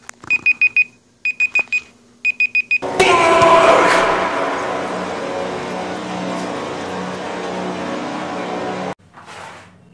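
A Google Pixel phone timer alarm beeps in quick repeated groups of tones, then a louder burst of broadband noise cuts in and takes over.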